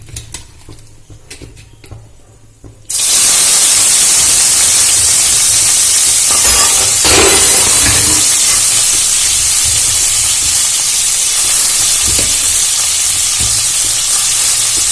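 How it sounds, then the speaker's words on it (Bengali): Chopped onion drops into hot oil in a kadai after a quiet start, setting off a sudden loud, sustained sizzle and hiss that keeps going steadily to the end, with faint stirring clinks. "পেঁয়াজটা এবার খুব ভালো করে লাল লাল করে ভেজে নেব"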